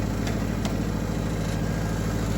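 An old Hyster forklift with a flathead engine idles on part choke, giving a steady, loud, low-pitched chugging hum with a fine, even pulse and no voices.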